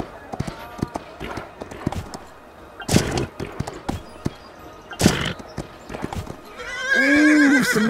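A horse galloping on a cross-country eventing course at Kentucky, with rhythmic hoofbeats, heavy thuds and a loud whinny near the end, mixed with crowd noise and commentary.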